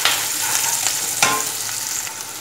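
Chopped green chillies sizzle and fry steadily in a pan for restaurant-style chilli chicken, with a continuous close hiss and a few sharper crackles and stirring clicks, no talk.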